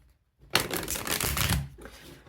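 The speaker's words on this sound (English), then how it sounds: "Feel free to fast forward through the shuffling if you like." A deck of tarot cards is shuffled once, a quick close riffling burst lasting about a second after a moment of quiet, then trailing off softly.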